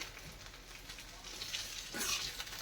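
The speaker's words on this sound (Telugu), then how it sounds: "ఈ గోంగూరలో జిగురు అంతా పోయే వరకు ఫ్రై చేసుకోవాలండి" Gongura leaves frying in oil for Andhra gongura pickle, a steady soft sizzle that swells louder near the end, with no voices.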